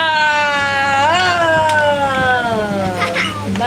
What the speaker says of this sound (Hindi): एम्बुलेंस लाए है गाइस